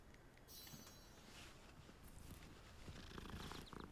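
A cat purrs softly and continuously in the video game Hogwarts Legacy, a faint low rumbling with light ambient game noises and soft steps around it.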